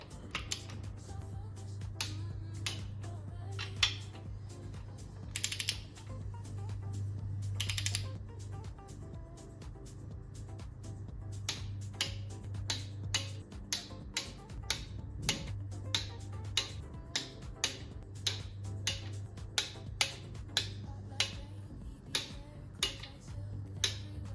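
Sharp clicks from a torque wrench as engine bolts are tightened to 20 foot-pounds on an RB30DET shortblock rebuild. The snappy ticks repeat at an uneven, irregular pace over a low steady hum, close and fairly clear.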